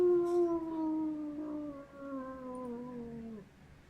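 A person imitates a howl with one long, steady, tonal wail that slowly falls in pitch over a few seconds. It is close and moderately loud, with no other sounds.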